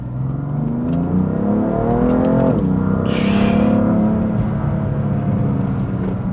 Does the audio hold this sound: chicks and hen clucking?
no